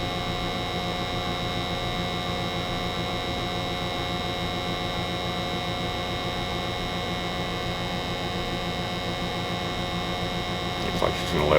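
An American Standard 90% gas furnace runs with a steady mechanical hum and a layered drone of motor tones, constant and close throughout. A brief rise near the end suggests the blower kicking on.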